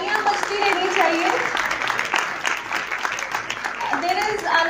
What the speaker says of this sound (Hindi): आपकी तालियां बजती रहनी चाहिए.